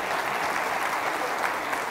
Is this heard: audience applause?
yes